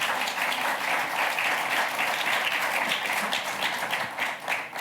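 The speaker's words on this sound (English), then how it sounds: "Ladies and gentlemen, a round of applause for our esteemed panelists this afternoon." An afternoon conference audience applauds its panelists with sustained, dense, fairly loud clapping that fills the room and tapers slightly at the end.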